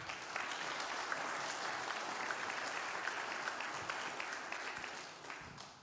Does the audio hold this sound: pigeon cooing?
no